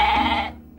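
A billy goat gives a single close, loud, quavering bleat that cuts off sharply, followed by a brief faint sound.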